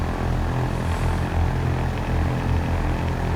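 A Cessna 152 piston engine in X-Plane 11 drones steadily, a loud, even propeller hum with a low, throbbing pulse that holds throughout, with no speech over it.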